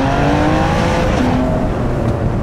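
Ferrari 599 engine droning steadily while driving on a track, a loud, close, sustained tone that shifts slightly in pitch through a corner.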